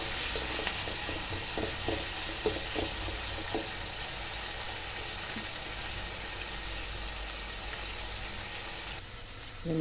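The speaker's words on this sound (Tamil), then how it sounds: "வெங்காயம் கொஞ்சம் வதங்கினதும் அதோடு மீடியம் சைஸ் சின்ன தக்காளி 2, நம்ம புளியும் போடுறதுனால 2 சின்ன தக்காளி இதையும் போட்டு இதை நல்லா வதக்கிடுவோம்." Onions and two small tomatoes sauté in a pan for a fish curry, a steady soft sizzle with a few stirring scrapes near the start, continuing alone without talk.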